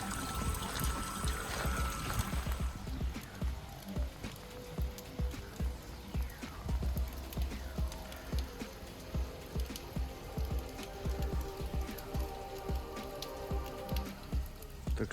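Pumped water trickles and drips down the walls of a salt grotto at Terrapol SalzGrotte in the Bad Salzuflen Kurpark: a steady, soft patter of drops and running water, continuous and fairly close, with no talk.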